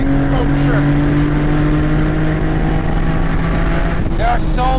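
A BMW M Roadster engine drones steadily with rising harmonic pitch, revving up to about 6,400 rpm and then easing off near the end, loud and close, with faint talk underneath.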